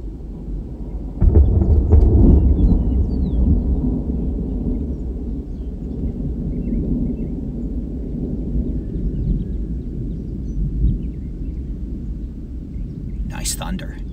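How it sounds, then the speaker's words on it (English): Thunder from a tornadic supercell near Norman, Oklahoma, heard from inside a vehicle: a loud low rumble builds early, then rolls on and slowly fades, with faint talk mixed into the background. "Nice thunder."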